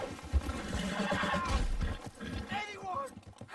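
Horse neighing in the Red Dead video game, rising over steady game noise and overlapping talk from players throughout.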